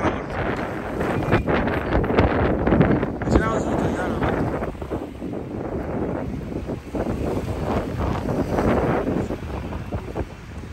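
Wind gusting by the sea with a boat nearby, a steady broadband roar buffeting the microphone close up, mixed with people talking throughout.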